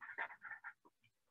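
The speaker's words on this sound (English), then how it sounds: "And I have a crying puppy" A dog whimpers and pants close by in short, soft bursts of high whining, fading into quiet breaths.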